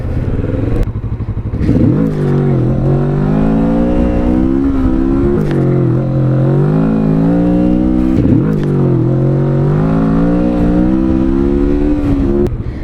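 A Kawasaki Vulcan S 650 motorcycle pulls away at low RPM with the clutch slipping, its engine droning steadily and rising in pitch through several gear changes, loud and close throughout.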